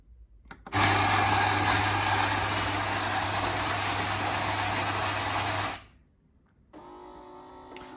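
A Nivona 769 automatic coffee machine, a 2020 model, makes a latte macchiato with a loud, steady whirring and pumping drone lasting about five seconds. It stops abruptly, followed by a brief lull and then a quieter hiss of steam or frothing.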